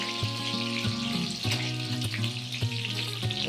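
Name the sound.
mutton frying in oil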